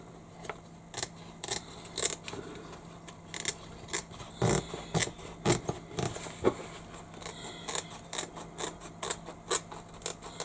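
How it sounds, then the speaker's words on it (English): Applique scissors snipping through fabric and seams on a Shamballa Bags Antonella bag, a quick series of crisp close cuts with short pauses, alone and fairly quiet. "So I just use my applique scissors."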